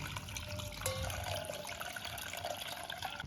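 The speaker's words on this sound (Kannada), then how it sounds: "ಇದಕ್ಕೆ ಮ್ಯಾಲೆ ಸ್ವಲ್ಪ ತನ್ನ ನೀರು ಹಾಕ್ತೀನಿ ನೋಡ್ರಿ." Water pours steadily onto boiled pasta drained in a ladle in a home kitchen, making a continuous splashing trickle throughout.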